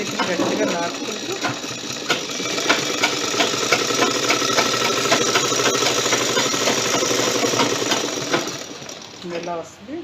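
A sewing machine runs steadily for about eight seconds while stitching a palazzo pant, its rapid mechanical rattle loud and close, then slows and stops near the end with brief speech over it.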